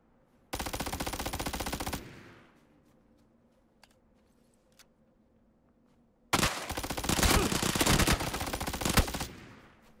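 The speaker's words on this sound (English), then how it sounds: "MP5, mate. Best gun in the game." MP5 submachine gun fired in PUBG, two sustained bursts of rapid automatic gunfire, a short burst first and then a longer one, close and loud, with faint clicks and quiet gaps between.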